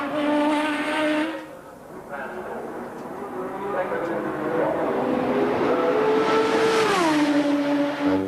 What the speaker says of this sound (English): the BMW engine he's got behind him is probably the most powerful